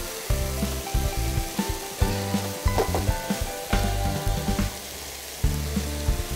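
Ingredients sizzle and brown in a hot pan, with a steady close-up crackle over a low hum and occasional scraping stirs, pausing briefly now and then.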